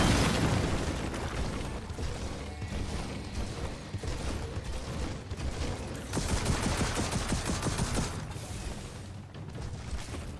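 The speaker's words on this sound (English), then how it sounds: "I'm requesting an airstrike." Airstrike explosions and bursts of gunfire in the game Gears of War 4, a loud, dense, continuous barrage of blasts and rattling shots with mechanical clatter, without talk.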